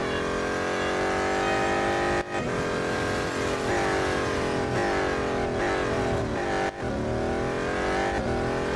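A car engine in the Real Racing 3 mobile racing game revs hard and steadily, its loud, continuous whine climbing through the gears with two brief dips at shifts, close and alone without talk.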